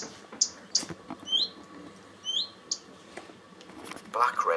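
A black redstart gives brief, high, scattered chirps at RSPB Minsmere, with quiet faint rustling between the calls.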